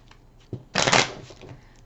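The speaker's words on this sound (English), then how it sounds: "as I'm shuffling these cards" Tarot cards are shuffled up close in one quick riffling burst of about half a second, preceded by a light tap, with no talking.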